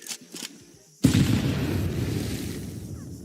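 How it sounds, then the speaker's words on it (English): A grenade goes off in Half-Life, a single sharp boom after a brief quiet lead-in, followed by a rumbling, debris-filled tail that fades slowly. "What if I grenade it?"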